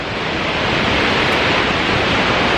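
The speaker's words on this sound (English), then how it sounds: "So we just reached the falls at Bow Falls." Bow Falls in Banff roars as a steady, loud wash of rushing water, close and unbroken throughout with no voices.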